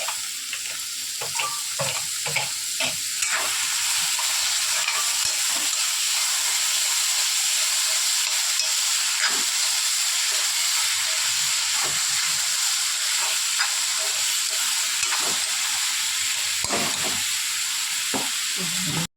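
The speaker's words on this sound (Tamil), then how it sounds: "இப்போ தக்காளி போட்டு வதக்கிக்கலாம்." Onions and tomatoes sauté in a pan for a Tamil-style fish curry, giving a steady loud sizzle and hiss with scattered spatula scrapes and clicks throughout, no voices.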